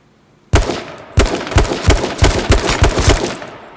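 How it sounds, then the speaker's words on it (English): Gunfire in the H1Z1 video game: a loud first shot, then a rapid burst of closely spaced shots cracking close up with no talking. "I'm gonna shoot him"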